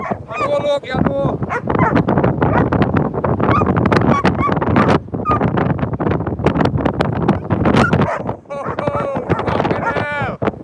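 Strong gusting wind buffets the microphone throughout, roaring and continuous, with a dog's whimpers and a voice breaking through now and then.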